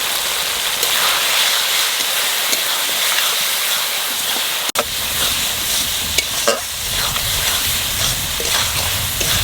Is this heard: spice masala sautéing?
yes